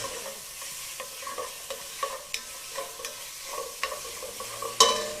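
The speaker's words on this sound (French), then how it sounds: "on fait revenir le porc là-dedans sur un feu assez fort quand même, assez soutenu" Pork frying over high heat in a heavy-bottomed pan, with a steady sizzle broken by irregular clinks and scrapes of stirring, one sharper clatter near the end.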